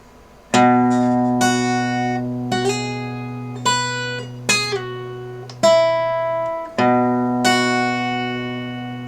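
Played slowly on guitar, the One Punch Man sad theme unfolds as a handful of plucked notes over an open bass string, each struck clearly and left ringing, close and unaccompanied.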